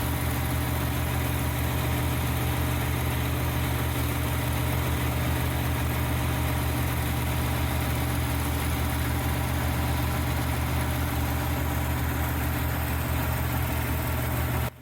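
An IH 1466 tractor with a 7.1 liter six-cylinder diesel engine runs steadily. It gives a loud, constant low drone with a firm pulsing rumble and no change in pace from start to finish.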